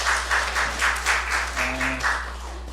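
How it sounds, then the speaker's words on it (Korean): A room of people at a church community gathering claps together in a short round of applause, rhythmic bursts of clapping over a low steady hum, with a few faint voices. "박수 쳐주세요"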